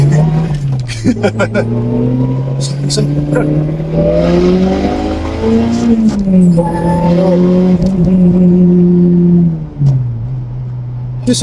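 A 500 bhp Toyota Celica GT-Four ST205 engine hums and rises in pitch as it accelerates through the gears, heard from inside the car, with a few clicks and rattles.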